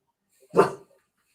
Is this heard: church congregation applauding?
no